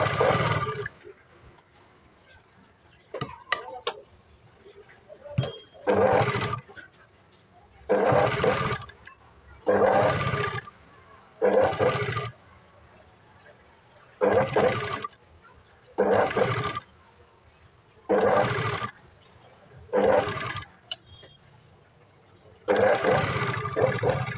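A sewing machine stitches a garment yoke seam in repeated short bursts, roughly a dozen runs of fast whirring separated by quiet pauses with faint handling sounds between them.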